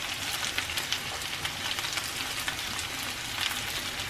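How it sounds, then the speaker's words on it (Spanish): Garlic fries with potatoes in a pan, a close, constant crackling sizzle with small popping spits throughout and no talking. "El ajo se va friendo y le va dando sabor a las papas."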